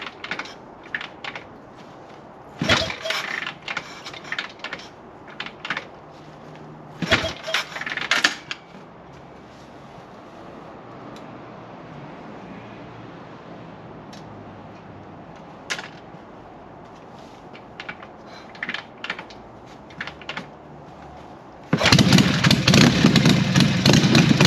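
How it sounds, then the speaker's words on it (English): A 1979 Harley-Davidson Shovelhead motorcycle is worked with a few sharp mechanical clunks as it is kicked over, then its engine catches and runs loudly and steadily close by at the end. "She's a badass kickstarting bike."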